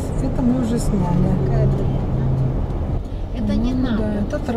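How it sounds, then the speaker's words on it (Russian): A tractor on an empty country road in Greece, heard as a steady engine drone close by from a passing car, with people talking over it throughout. "Да, это трактор."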